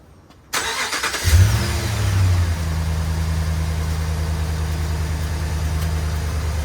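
A car engine starts up close by, gives a brief rev, then settles into a steady low idle that continues to the end.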